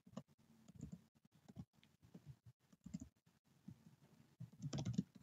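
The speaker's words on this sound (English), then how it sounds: "then type in the name, which is called course material" Someone types an account name on a computer keyboard, with soft, irregular key clicks in short bursts and a faster flurry near the end, recorded quietly up close.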